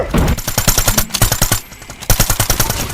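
Rapid automatic gunfire in Call of Duty Mobile, loud close bursts of machine-gun shots in a fast, steady rhythm with a brief pause midway.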